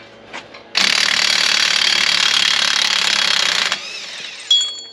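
A ratchet works a big 36 mm socket off a Jeep Rubicon axle, clicking in a fast, continuous, loud burst for about three seconds, close by, then a few lighter metallic clinks.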